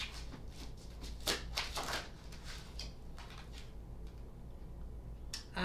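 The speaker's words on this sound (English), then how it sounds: "Shuffle this card up a little bit." Tarot cards are shuffled by hand in a run of quick, crisp riffling flutters that come in bursts, then fall quiet before a last short rustle.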